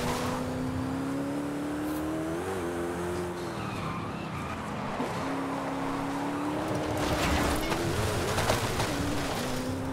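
Cars race in a video game, engines droning steadily with rising and falling pitch, tires skidding and squealing through the turns, loud and continuous throughout.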